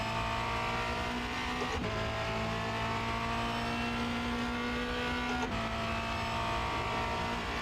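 Formula Renault 2.0 race car at Charlotte Motor Speedway Roval, a loud steady engine drone heard close, with two sharp breaks as it downshifts under braking, the pitch resettling after each.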